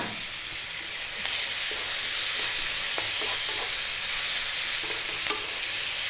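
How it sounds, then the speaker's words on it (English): Onion, chili, cumin seeds and curry leaves fry together in hot oil over above-medium heat for an Indian fish fry, making a loud, steady, close sizzle with faint scraping clicks from stirring. "the onion, the chili, the cumin seeds, the curry leaves, all in one time. We are on an above medium heat."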